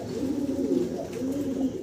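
Blue bar pigeon with feathered legs cooing, a low, throaty, warbling coo in two close phrases with a short dip between them.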